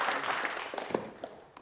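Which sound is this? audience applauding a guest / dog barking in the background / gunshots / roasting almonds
audience applauding a guest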